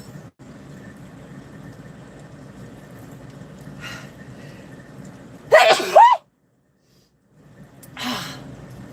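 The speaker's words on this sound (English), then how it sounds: "That was a dust sneeze." A loud, close sneeze set off by dust bursts out of a quiet, steady background hum and cuts off abruptly, followed by silence and then a softer breathy exhale.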